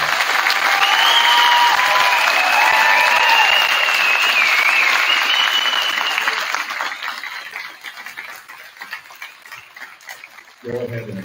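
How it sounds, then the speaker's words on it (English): A large audience claps loudly for new Honor Society members at a high school volleyball event, with cheers riding over dense applause that fades after several seconds before a voice briefly starts talking. "a round of applause for the new members of the Honor Society"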